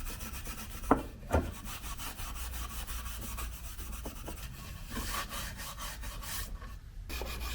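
Steel wool rubbing back and forth over stained wood slats for a box truck shower floor, a steady close scratchy texture with a couple of louder knocks early on, no talking.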